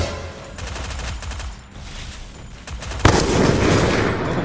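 Gunfire from UMP-style weapons in the Free Fire mobile shooting game crackles in rapid bursts, with a louder, denser volley breaking out near the end; no talking.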